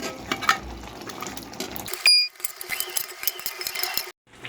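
Beef dropped into a hot pot for Bengali beef tehari, with a sudden loud sizzle and frying hiss after a stretch of clattering and stirring, then ending abruptly.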